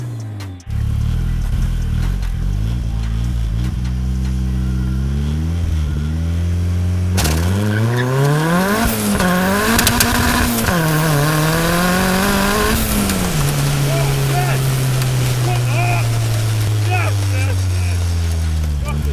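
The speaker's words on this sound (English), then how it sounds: "Now it's Dave's turn and his Locost kit car." A 376 bhp Locost kit car idles and then launches hard from 0 to 60. The loud engine note climbs steeply through several gear changes before settling to a steady drone, with a voice heard briefly.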